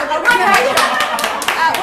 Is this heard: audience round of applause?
yes